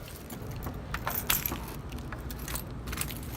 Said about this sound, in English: So they gave me 2 keys.